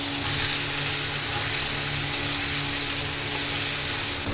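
Chopped onions fry in oil with whole cumin, bay leaves, dried chillies, cardamom, cinnamon and cloves for a mutton curry, a steady close hiss and sizzle running without a break, no voices.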